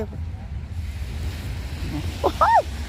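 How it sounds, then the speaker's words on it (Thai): Steady ocean surf and wind rumble continuously, with a brief higher-pitched call or squeak near the end. "ฟังเสียงคลื่นเสียงทะเล"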